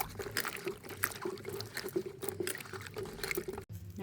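Water pours and splashes in uneven gushes as onions and chillies are washed in a village kitchen, close and moderately loud, with a short gap near the end.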